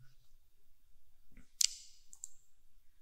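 A computer mouse clicked in ArcGIS mapping software: a single sharp click near the middle, followed by a second fainter tick, quiet and close against a hushed room.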